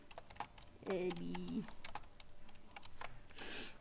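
Rapid clicking keystrokes on a computer keyboard run steadily and close by, with a voice speaking briefly over the typing.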